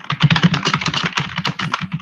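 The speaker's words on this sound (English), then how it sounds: "I know you can hear the typing" Brisk typing on a computer keyboard: dense, steady clatter of keystrokes, loud and close, continuing without pause and with no speech over it.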